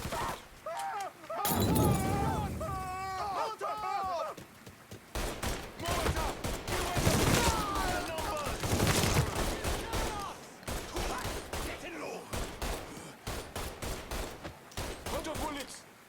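Gunfire in a Mafia 3 shootout: bursts of shots and crashes scattered across the scene, loud and close, mixed with shouted voices talking throughout.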